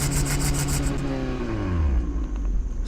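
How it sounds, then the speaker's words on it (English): A 2023 Toyota Vios G-Spec engine revs to the soft limiter and then winds down, the exhaust note falling in pitch over a couple of seconds, close and fairly loud. "if you guys are wondering how the all-new Vios exhaust sounds like, let's listen"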